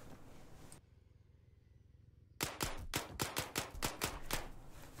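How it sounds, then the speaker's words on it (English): Repeated heavy rifle shots from an M107 sniper rifle in Arma 3, a dozen or so sharp loud cracks fired in quick succession after a stretch of quiet, each ringing out briefly. "I can hear the shots constantly. Sounds like a big rifle."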